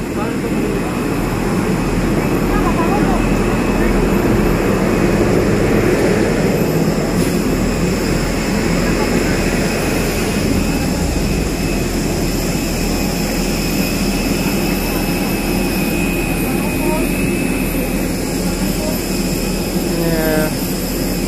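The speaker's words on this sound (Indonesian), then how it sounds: "Pesawat yang ada di Bandara Hasanuddin." A loud, continuous jet airplane engine roar and whine at Hasanuddin Airport fills the whole stretch, steady and close, with faint voices beneath.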